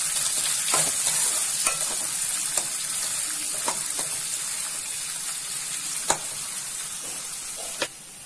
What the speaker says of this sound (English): Now I have heated 4 tablespoons of oil in a kadai. I'm adding onions and pudina.